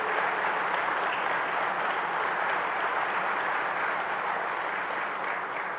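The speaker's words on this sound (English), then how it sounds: "Give Gil Quinones another big round of applause for his great creativity." An audience breaks into sustained applause honoring Gil Quinones at a public announcement of an Alcoa jobs deal in Massena, a dense, steady wash of many hands clapping at even loudness throughout, with no voices over it.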